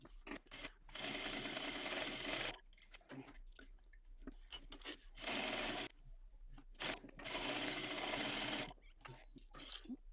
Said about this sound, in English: we're going to head to our sewing machine, and we're going to baste using a quarter inch seam allowance